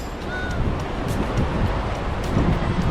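Wind gusting steadily at a Japanese seashore during sea fishing, a continuous broadband rush with surf-like wash underneath, fairly loud and close to the microphone throughout.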